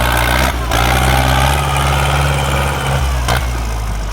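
A Ford 6610 farm tractor's diesel engine runs steadily at idle, a loud, close, continuous low rumble with two short dips in intensity.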